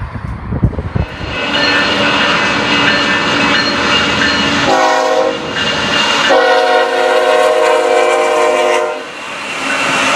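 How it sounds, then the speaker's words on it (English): A train rumbles past close by at the Tehachapi Loop, loud and sustained, with a blaring horn sounding in two long blasts over the rolling noise. "There's a train."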